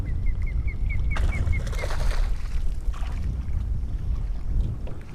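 Wind gusts blow over open water around a Hobie kayak, a rough, broadband rush with buffeting low rumble, joined early by a faint repeated chirping tone and a burst of splashing noise.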